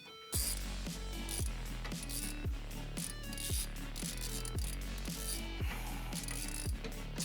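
A ratchet with an extension and 15mm socket snugs down bolts on a 2020-2021 Jeep Gladiator during a running-board step kit install, giving a steady, close, loud series of quick clicking strokes with no talking.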